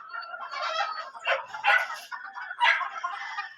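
Hens clucking in a breeding pen with eggs, a close, fairly loud run of overlapping clucks and squawks that swells in several bursts.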